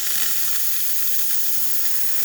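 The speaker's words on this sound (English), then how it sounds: "Nice strong steam." A La Pavoni espresso machine's steam wand, just after a full service and tune-up, lets out a strong, steady hiss that stays loud and close throughout, with no voices.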